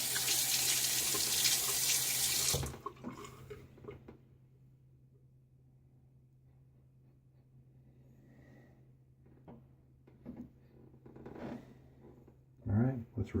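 A Gillette Slim razor with a Perma-Sharp Super Stainless blade is rinsed under a running tap: a loud rush of water at the start stops abruptly, followed by faint handling clicks and someone talking quietly.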